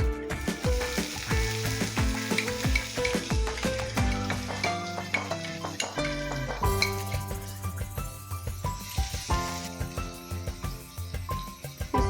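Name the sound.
chopped onions and cumin frying in hot oil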